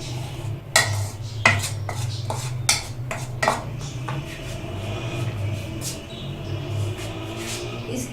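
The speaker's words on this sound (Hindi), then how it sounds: "इसमें 1/2 टेबलस्पून बेकिंग पाउडर डालकर अच्छे से मिक्स कर लेंगे।" A spoon mixes sifted flour and baking powder in a bowl, with a series of sharp clinks against the bowl early on, then softer, steadier scraping and stirring.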